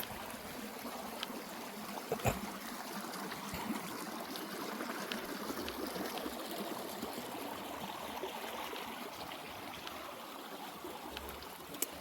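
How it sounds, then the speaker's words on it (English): A hillside stream runs steadily over stones, a continuous close rushing and trickling of water with no voices. "Streams are always down the hill, like these ones."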